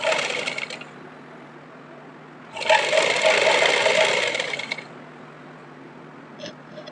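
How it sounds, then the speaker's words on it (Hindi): A sewing machine stitches along the folded fabric edge of Afghani pants. Two close mechanical bursts whir, a short one and then a longer run of about two seconds, with quiet pauses between. "इसको हम ऐसे फोल्ड करेंगे और फोल्ड करने के बाद में हम इसको प्रॉपर ये और इस पर किनारी साइड में स्टिच करते जाएंगे"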